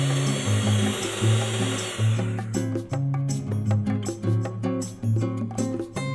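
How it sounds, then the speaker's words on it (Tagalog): An electric hand mixer whirs steadily while beating chilled all-purpose cream in a bowl, a loud close motor hum with a rhythmic pulsing as the beaters move, with no talking. "Gumamit ako ng electric hand mixer para po i-beat yung ating all-purpose cream."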